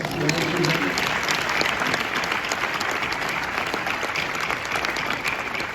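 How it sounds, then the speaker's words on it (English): Audience giving a coach another round of applause at a health system leadership event, sustained dense clapping from a sizable crowd, loud and unbroken, with faint voices mixed in early. "Can we give her another round of applause?"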